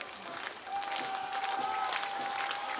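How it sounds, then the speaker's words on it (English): Baseball crowd at an FCBL championship game in Nashua, New Hampshire, cheering and clapping steadily throughout, a broad rolling wash of applause with a faint sustained whistle or horn tone partway through. "Crowd starting to come alive."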